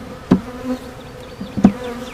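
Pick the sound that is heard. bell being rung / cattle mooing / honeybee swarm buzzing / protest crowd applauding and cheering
honeybee swarm buzzing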